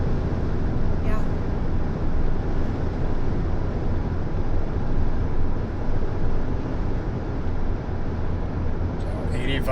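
Low exhaust drone inside a vehicle cruising at 1800 RPM and 70 mph, a steady deep hum with road and wind noise, continuous and even throughout.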